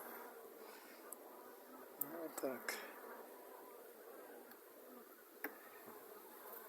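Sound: honey bees buzzing

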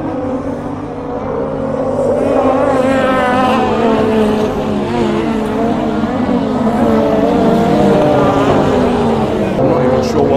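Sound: racing vehicles at Lydden Hill, beach buggies or go-karts

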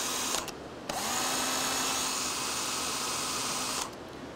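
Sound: portable drill cranking camper jack

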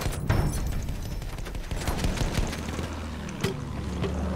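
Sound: gunfire from the video game Battlefield 1

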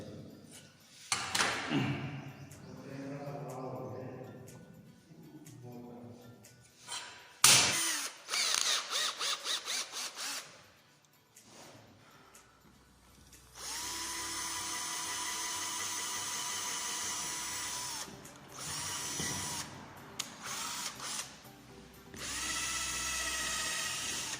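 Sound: power drill drilling holes for shelf screws

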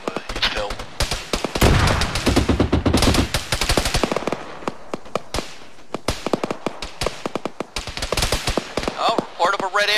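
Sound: gunfire from a BMD vehicle in video game Arma 3

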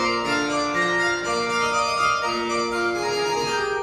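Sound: Rodgers 790B organ harpsichord voice

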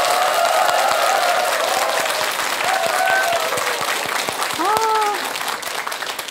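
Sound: audience applause for pianist

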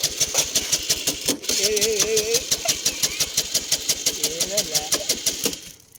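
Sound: motorcycle engine starting

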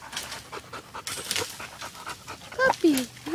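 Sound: puppy panting

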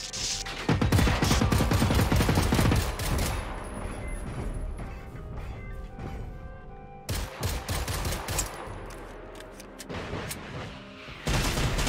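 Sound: gunfire in the video game Generation Zero

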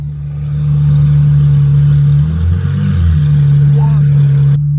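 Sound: Ferrari exhaust sound

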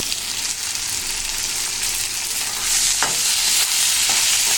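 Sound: green chillies being stir-fried in a pan

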